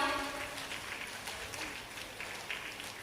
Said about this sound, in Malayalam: നല്ലൊരു കയ്യടി കൊടുത്തുകൊണ്ട് അവരെ നമുക്ക് ആദരിക്കാം